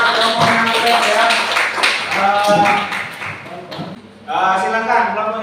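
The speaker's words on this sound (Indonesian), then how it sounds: "Kasih aplaus buat kelompoknya ya." A classroom audience claps for a presenting group, a dense patter of hands mixed with voices that fades briefly before a fresh burst of clapping near the end.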